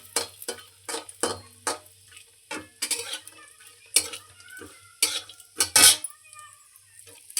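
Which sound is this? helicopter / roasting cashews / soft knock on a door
roasting cashews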